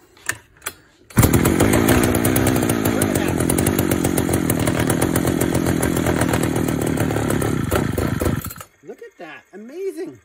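Vintage Pioneer P41 chainsaw fires up on choke and runs loud and close with a rough, rattling two-stroke roar for about seven seconds before cutting off, followed by a voice.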